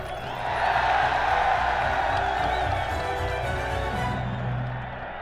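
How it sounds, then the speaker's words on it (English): A large, merry crowd cheers the return of King Charles II, a steady swell of distant voices and shouting that holds for several seconds before fading slightly. "Now they were cheering the return of the Stuarts."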